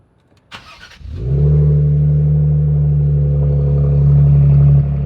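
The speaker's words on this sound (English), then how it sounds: "we gotta start it without an exhaust system on it" A short rattle, then a Ford Explorer ST engine with no exhaust system fitted cranks and catches, settling into a loud, raw, steady idle with a deep rumble throughout.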